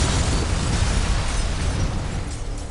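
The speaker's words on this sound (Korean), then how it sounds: "엄청난 폭발입니다." A huge explosion in a TV drama roars as a dense, loud, sustained blast of broadband rumble lasting the whole stretch, with no voices over it.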